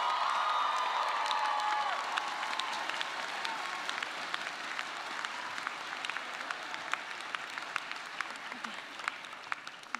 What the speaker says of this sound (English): please give the loudest round of applause